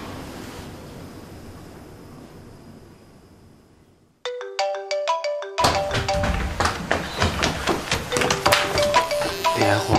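A mobile phone ringtone for an incoming call plays as a bright, melodic chime after a quiet stretch of low background noise, then swells into a fuller, louder tune that keeps going to the end.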